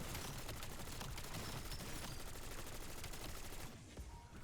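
An MK78 light machine gun in BO7 Zombies fires in a dense, sustained burst of rapid shots, loud and close, tapering slightly near the end, with no talk.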